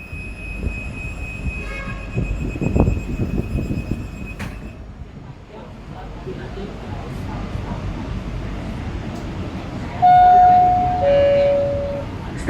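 Riding aboard an Indonesian-built INKA KRL electric commuter train in service in Jakarta: a low rumble of wheels and motors with faint tones and squeals, and a brief chime near the end.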